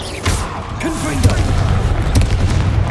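A Confringo fire-blast spell cast in Hogwarts Legacy, a loud booming burst with crackling follow-up amid dense, continuous combat noise.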